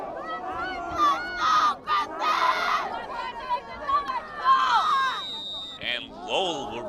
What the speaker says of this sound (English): Crowd is getting really amped up tonight.